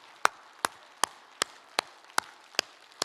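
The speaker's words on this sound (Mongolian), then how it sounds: "Бүр чангаар чин сэтгэлээсээ бүгдээр алга ташлтыг." Steady rhythmic clapping in a Christian Christmas church service, about eight crisp, evenly spaced claps of similar loudness over a quiet room background.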